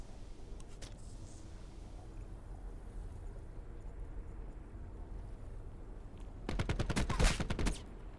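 Video-game gunfire in Black Ops 4: a sustained rattling burst of shots near the end, loud against a steady low background rumble after a long quieter stretch.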